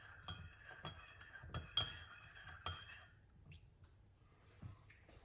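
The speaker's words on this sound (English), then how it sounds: "we are going to put some honey inside of it. Give it a mix." A spoon stirs honey into banana peel tea in a glass, giving a few light clinks against the glass, spaced irregularly in the first three seconds, then one faint tap later, close and with no talk.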